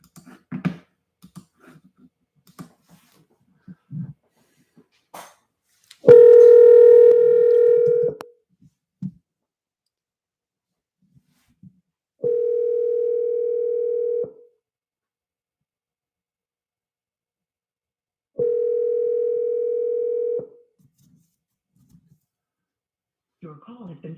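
A phone call to a cell phone: dialing clicks, then three long, loud, steady ringback tones spaced several seconds apart with silence between them, and faint clicks and speech sounds at the start.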